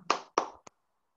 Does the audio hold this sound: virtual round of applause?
yes